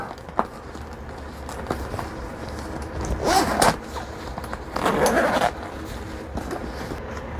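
A zipper on the front pocket of an iFlight FPV drone backpack is pulled open in two louder rasping bursts, close by, with faint handling rustles between them.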